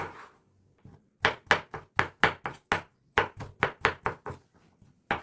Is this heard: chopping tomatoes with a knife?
yes